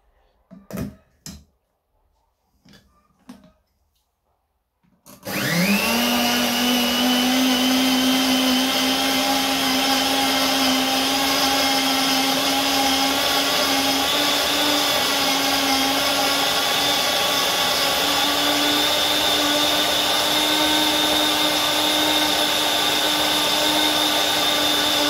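An electric mixer blending honey, oil and apple cider vinegar, starting after a few knocks and then whirring loudly and steadily for about twenty seconds with a constant motor whine.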